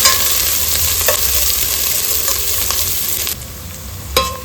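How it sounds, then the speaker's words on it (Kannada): Chopped onions fry and sizzle steadily in hot oil for a fish curry, a continuous close hiss with a few brief stirring scrapes and clinks, no voices. "ಅದನ್ನು ಸೇರಿಸ್ಕೊಂಡು ಈರುಳ್ಳಿ ಕೆಂಪಾಗೋವರೆಗೂ ಫ್ರೈ ಮಾಡ್ಕೋಬೇಕು"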